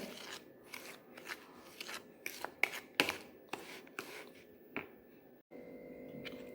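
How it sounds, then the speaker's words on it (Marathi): Sugar and ghee whisked together in a bowl, a series of close, dry scraping strokes at an uneven rhythm, some sharper than others, with a quieter steady rasp at the end. "मी सगळं घालून घेतलं आणि हे छान मिक्स करून घेते ही साखर विरघळेपर्यंत"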